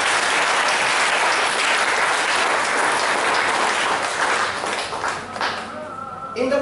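Church congregation at a Friday worship service breaks into loud, sustained applause, a dense wash of clapping that fills the room and tapers off near the end.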